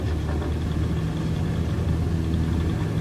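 A light aircraft engine runs at full power with a loud, steady, close-up droning roar and a constant vibrating hum, no voices over it.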